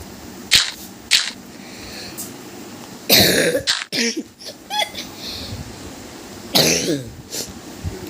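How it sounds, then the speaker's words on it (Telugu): A person coughs in four or five harsh, separate bursts spread across several seconds, close and loud, with quieter throat noises and a faint background hum between them. "సో ఫ్రెండ్స్, నాకైతే కాఫ్ వచ్చింది"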